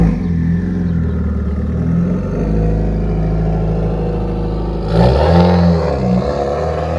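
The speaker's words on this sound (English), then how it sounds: "you can hear the turbo a ton in that" A Subaru WRX turbo engine accelerates nearby, a steady loud engine drone that surges again in the last couple of seconds, with turbo whine riding over it.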